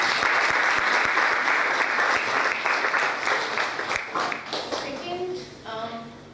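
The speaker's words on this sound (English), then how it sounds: "So let's just give a good round of applause." Loud audience applause after a marketing panel, dense clapping with a few sharp nearby claps that thins out after a few seconds, and then a voice speaks over the last of it.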